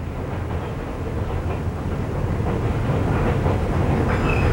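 A Newfoundland Railway train climbs steep grades toward the Cat Hills on the Avalon Peninsula, giving a steady, dense low rumble of wheels on track with a rising roar and faint squeals.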